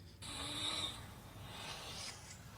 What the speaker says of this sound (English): You're hearing a woman snoring in a clip from a live stream